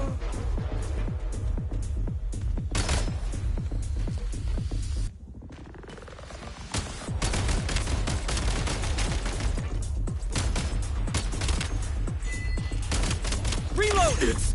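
Video game gunfire in dense rapid bursts, loud and continuous, breaking off for about two seconds before resuming heavy fire, with voices shouting over it.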